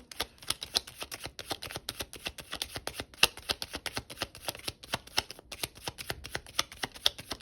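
A deck of tarot cards is shuffled by hand in a steady run of crisp riffling and slapping card sounds, close and fairly quiet, with short pauses between bursts and no talking.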